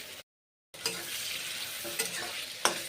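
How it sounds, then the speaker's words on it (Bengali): Pointed gourd frying in mustard oil in a pan, a steady close sizzle with a few soft stirring clinks, heard alone after a brief silent gap. "তাই এখন পটলগুলোকে ভেজে নিচ্ছি। সর্ষের তেল দিয়েছি, এই যে পটল ভাজা।"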